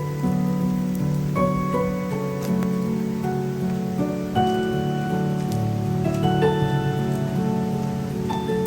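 Rain falls steadily at Manyueyuan National Forest Recreation Area in a continuous, moderate patter, with ringing tones running over it.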